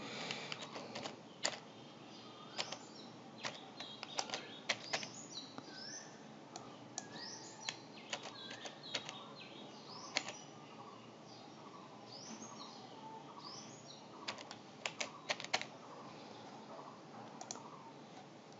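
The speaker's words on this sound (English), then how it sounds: "Okay, I will type again." A password is typed on a computer keyboard as a quick, irregular run of faint key clicks, with soft birdsong chirping far off in the background.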